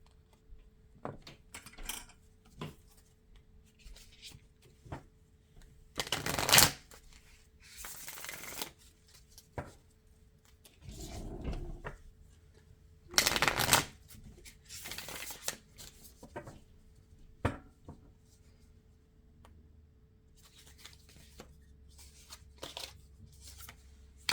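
A deck of oracle cards is shuffled by hand in several crisp riffling bursts separated by quiet pauses, with small taps and handling sounds in between, close to the listener and without speech.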